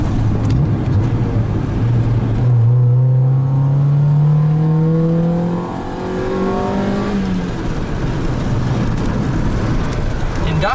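A loud, close Honda EK Civic engine revs up with rising pitch and a throaty cold-air-intake induction roar, then drops back to a steady drone.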